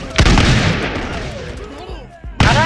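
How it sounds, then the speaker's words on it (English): Musket volleys from flintlocks and booming cannon fire in the TABS battle game, a loud sharp burst at the start and another near the end with dense battle noise between. "flintlocks, and then cannons."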